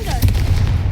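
A Confringo spell blast in Hogwarts Legacy goes off as a brief burst with a low, rumbling boom and a crackling high-end flare, then rolls on as continuous low-frequency rumble.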